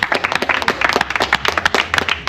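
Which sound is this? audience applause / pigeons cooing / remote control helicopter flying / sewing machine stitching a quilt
audience applause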